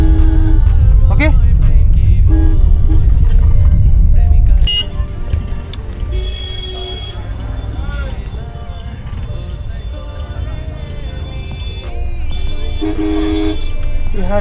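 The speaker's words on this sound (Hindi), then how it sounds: "यहाँ ट्रैफिक मैनेजमेंट बहुत मुश्किल काम है।" City street traffic in Patna, India, with car horns tooting repeatedly over a loud engine rumble that eases after a few seconds, while people talk nearby.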